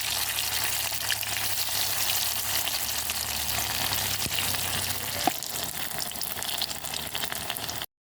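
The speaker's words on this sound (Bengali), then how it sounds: "কড়াইয়ের মধ্যে সর্ষের তেল দিয়ে দেব, আর তেলটা গরম হয়ে এলে একে একে বড়াগুলোকে দিয়ে দেব" Steamed taro leaf fritters fry in hot mustard oil in a wok, giving a continuous, even sizzle and crackle close up, with one sharp pop near the end.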